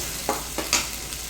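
Ridge gourd masala fries on a low flame, a soft continuous sizzle with a few brief scrapes of a spoon stirring in the pan, close and quiet.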